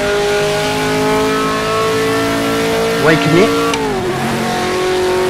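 Race car engine in a racing video game holding third gear under steady throttle, a loud, sustained tonal drone with a brief pitch swoop and squeal partway through, while someone talks over it.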